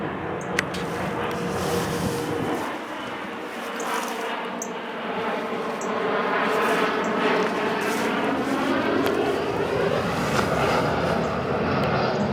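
An aeroplane descending to land at a nearby airport gives a broad, steady engine roar that swells and shifts in pitch across the whole stretch, heard outdoors in a February garden with no talking.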